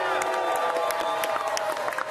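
A live studio audience at an ESPN First Take show in Miami cheers and applauds without a break, a dense, loud roar of clapping with whoops layered on top.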